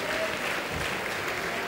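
Audience applause at a wedding gala, a brief steady burst of many hands clapping together, fairly distant and even in level throughout.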